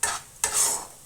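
Chicken kofta curry is stir-fried in a pan, two quick close scraping stirs over a soft sizzle.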